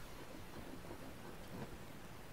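Rain falls steadily in the survival game Green Hell, a soft, even wash of hiss with a low rumble of thunder beneath it, faint and distant-sounding.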